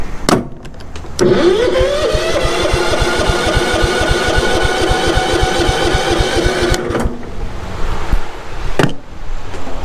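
A carbureted engine turned over by its starter motor without catching: about six seconds of steady, rhythmic cranking, loud and close, with no talk.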